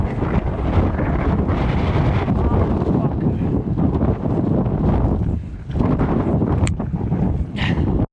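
Strong side wind at Nordkapp buffets a cyclist's microphone with loud, continuous roaring gusts that dip briefly and then surge back, while a voice talks under the buffeting.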